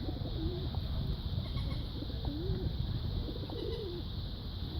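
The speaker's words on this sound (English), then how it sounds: "the birds them are chiming" Pigeons or doves coo outdoors in a few short repeated calls, moderately near over a steady hiss of background noise.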